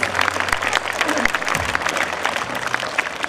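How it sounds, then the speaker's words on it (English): Audience applause for parents at a St. Francis School Christmas celebration in Bandikui, a steady wash of many hands clapping throughout, with a low hum and faint voices beneath. "Let's give a big clap to all our parents."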